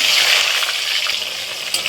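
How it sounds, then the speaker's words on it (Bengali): Salted eggplant pieces fry in hot oil, giving a close, continuous hissing sizzle with soft crackles and an occasional sharper pop. "আমি নুন মাখিয়ে রাখা বেগুনটা এখন ভেজে নেব"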